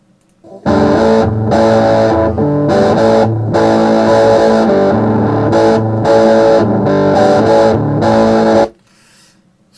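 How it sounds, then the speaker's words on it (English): Heavily distorted, fuzzy buzzing tones from a fuzz effect plugin in Reaper play as a steady, loud riff for several seconds before stopping abruptly, leaving faint hiss. "now we got a little bit of distortion"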